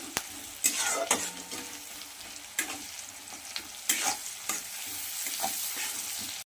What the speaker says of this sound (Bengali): আমার পেঁয়াজগুলো হালকা লাল লাল ভাজা হয়ে গিয়েছে